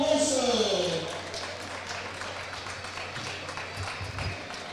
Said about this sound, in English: please keep your applause going for her opponent